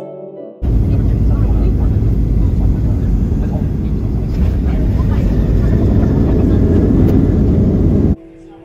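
Airplane landing at Seattle airport at sunset, a loud continuous low roar and rumble heard from inside the cabin, starting abruptly and cutting off near the end.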